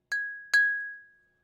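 Two drinking glasses clink together in a toast. There are two bright, close taps a moment apart, and a clear ringing tone lingers and fades after them in an otherwise silent room.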